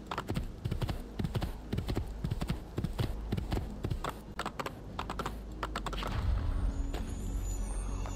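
Horse hooves clip-clop in a steady, crisp rhythm in the Renaissance-era game Assassin's Creed 2. The trotting is close and clear, and a low rumble swells toward the end.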